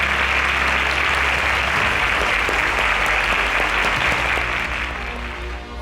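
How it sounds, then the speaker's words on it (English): A quiz show grand finale audience gives a steady, loud, continuous round of applause that holds at full strength throughout and only eases slightly at the very end. "A round of applause for him."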